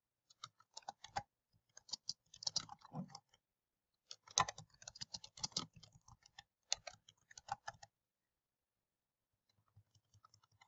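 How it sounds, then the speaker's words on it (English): Keys clatter on a computer keyboard in short, quiet bursts of close typing separated by pauses, ending with a few faint taps, with no voices. "I'm going to type the name of my video here"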